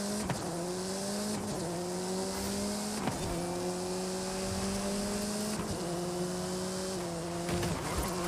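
Car sliding through a rally course in Forza Horizon 5, engine droning steadily with rising revs that drop at regular gear shifts about every two to three seconds, tires scrubbing loudly throughout with no talk.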